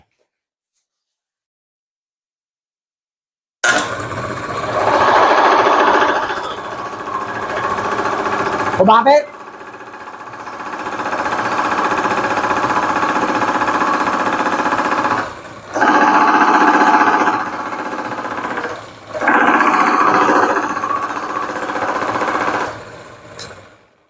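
A small engine running with water mixed into its oil runs loudly and steadily, its rough mechanical drone rising and dipping in bursts, with a brief spoken question over it.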